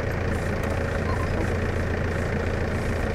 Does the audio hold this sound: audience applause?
no